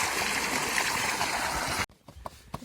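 Water runs into a tank with a steady rushing, gurgling flow that stops abruptly near the end, followed by a few faint clicks and knocks.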